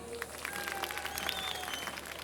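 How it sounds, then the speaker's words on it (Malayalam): A temple show audience at the Makarachova 2020 mega show at Sree Kodungallur Kavu Bhagavathy Temple gives faint, scattered, distant claps that stay quiet and sparse throughout. "ഇനി കണ്ടിട്ടില്ലാത്തവരൊന്ന് ക്ലാപ്പ് ചെയ്യോ?"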